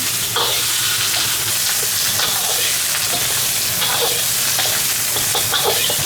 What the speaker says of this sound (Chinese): 先把猪蹄下锅，先给它煸炒一下哈，煸香。